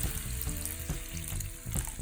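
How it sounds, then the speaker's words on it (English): Cashew cream and water pour into a bowl for an oil-free vegan recipe, a steady close liquid splash and trickle with no talk. "To add in the cashew cream and the water."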